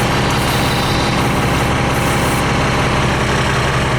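A boat's inboard engine idles steadily at 670 RPM, a loud, continuous low rumble with a constant throb and no voices over it, heard from close by with the hull sitting in the water.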